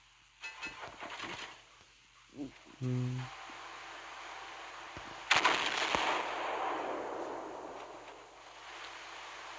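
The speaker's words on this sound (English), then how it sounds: "I can fire a couple of high explosive salvos to see how it looks like" The battleship Bretagne fires high explosive salvos in the video game Naval Creed: a few sharp, fairly faint gun blasts spread over several seconds, the last one trailing into a long hissing rumble, with a voice speaking briefly.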